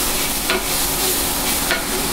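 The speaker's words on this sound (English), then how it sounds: "give this another stir" Food sizzles steadily in a frying pan while a utensil scrapes through it a couple of times, part of cooking venison nachos; the frying hiss is loud and continuous.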